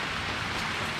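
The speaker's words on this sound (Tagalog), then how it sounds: "So medyo malakas yung ulan dito sa amin dahil yun nga, medyo pangit ng weather at may bagyo." Heavy typhoon rain falls steadily as a dense, continuous hiss with no breaks or voices.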